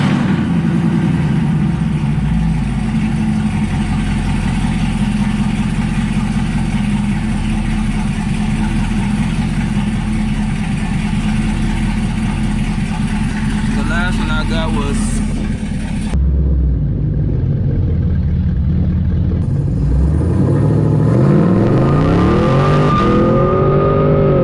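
Camaro SS with an FBO setup roaring through a 0 to 60 pull, a loud continuous engine drone with rising revs and a gear change near the end, close and steady throughout.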